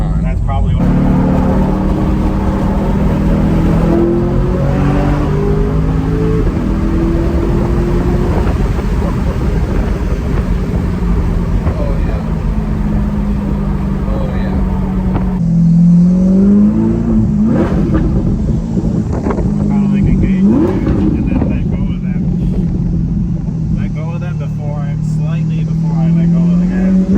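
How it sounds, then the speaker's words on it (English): Chevrolet C8 Corvette launching hard with launch control, the engine droning and rising as it accelerates, heard from inside the car with steady road and wind noise throughout and people talking over it. "I'm gonna do launch control all the time."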